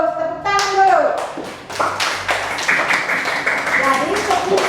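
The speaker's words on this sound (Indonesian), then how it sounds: "Tepuk tangan dulu." Classroom applause from students after a traditional war dance performance, a burst of clapping hands filling the room, mixed with children's voices and a teacher talking.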